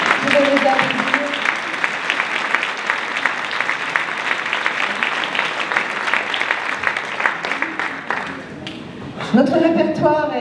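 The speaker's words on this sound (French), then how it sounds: "Vous allez applaudir." A Christmas concert audience applauds a French choir with loud, sustained clapping for several seconds before a voice speaks over the fading applause.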